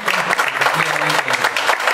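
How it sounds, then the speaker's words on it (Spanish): A crowd claps together in a brief, dense burst, with a voice briefly audible underneath. "Les brindamos otro fuerte aplauso por este esfuerzo."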